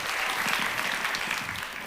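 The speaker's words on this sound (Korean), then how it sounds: "하나님께 영광의 박수 올려드리겠습니다." A youth-service church congregation applauds to give glory to God, a dense, steady wash of clapping filling the room, loud and continuous with no pauses.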